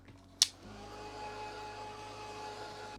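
Mixed media artwork being dried with a hair dryer: a sharp click as it switches on, then a steady, even blowing whir that continues to the end, close by and moderately loud, with no talking.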